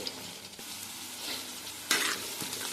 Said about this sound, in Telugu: ఇవి ఇంకొంచెం వేగనివ్వాలి